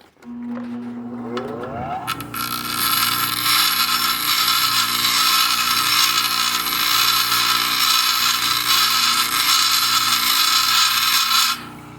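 The end of a hardened steel brake line is sharpened on a powered grinding tool. After a spin-up, a loud continuous abrasive rasping runs steadily for about nine seconds, then cuts off, with no talk.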